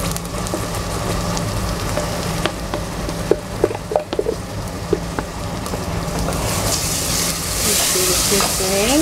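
Onion and garlic frying with bacon in a pan, a loud continuous sizzle with scattered scraping and clinking as a utensil stirs, the hiss swelling brighter near the end.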